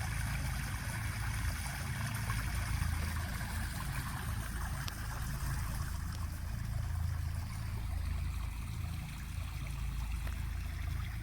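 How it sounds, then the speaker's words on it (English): Creek water flowing beside a hiking trail at Los Penasquitos in San Diego, a steady, close rushing wash that holds unbroken throughout with no voices. "it's real peaceful just listening to the water"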